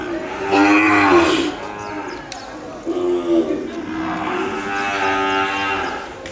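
Ongole breed cattle at the Kodad livestock market give two loud, drawn-out moos, one early and a longer one later, with a crowd murmuring in the background.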